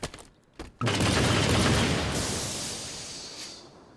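In Halo 5, a Rocket Warthog fires rockets: a sharp burst of rapid gunfire-like blasts, loud and close, then a long roaring rush that slowly fades over several seconds.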